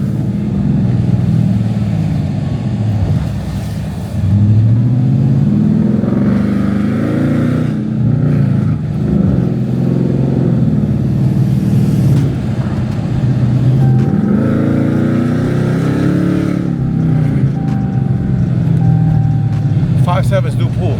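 Widebody car on a test ride after a build, its engine droning loud and close throughout, with repeated surges and revs as it accelerates and the wheels spin.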